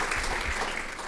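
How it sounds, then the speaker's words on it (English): Conference audience applause at a political gathering: a short, dense wash of many hands clapping at once, steady and fairly loud throughout. "I assume the applause is for the congressman and not the IRS commissioner."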